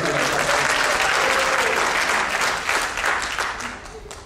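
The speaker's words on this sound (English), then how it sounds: "Give a bit of a clap." An audience claps for a dancer at a dance finale performance, with dense, loud applause from a crowd that holds steady for a few seconds before thinning out toward the end.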